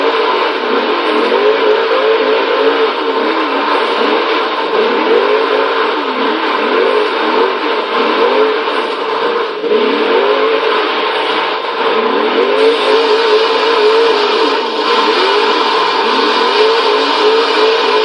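A 1992 Hoonigan Mazda RX-7 Twerkstallion in Forza Horizon 3, its rotary engine holding a loud, steady high-revving drone with wavering pitch throughout, no voices.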